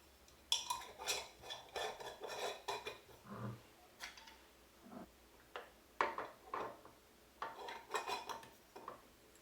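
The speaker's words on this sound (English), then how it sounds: "cover the jars and place them into a saucepan with water" Glass jars clink and knock against a metal saucepan with water, a series of sharp taps and rattles with short pauses between them.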